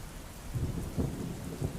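Rain falls in the Shela area of Ahmedabad: a steady wash of rainfall with a few soft, low rumbling swells over less than two seconds, and nobody speaking.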